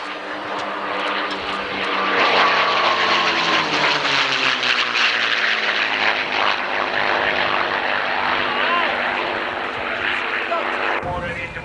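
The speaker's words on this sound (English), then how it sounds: "a final appearance of the 2 Mustangs" Two P-51 Mustang propeller fighters at an airshow, a loud sustained engine drone with a rising and falling pitch as they pass, heard under commentary.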